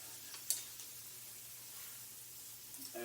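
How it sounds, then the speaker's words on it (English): Garlic toasting in a hot pan, a faint steady sizzle and hiss with a small tap near the start and a light clatter at the end. "Garlic first, Toast the garlic, get a little color on it"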